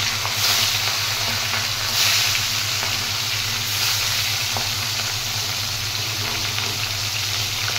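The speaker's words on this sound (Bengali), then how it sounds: "এবার একে একে মাছগুলো ভেজে নেব।" Fish sizzling steadily in hot oil in a wok or karahi for a rohu curry, a continuous close frying hiss with soft crackles throughout.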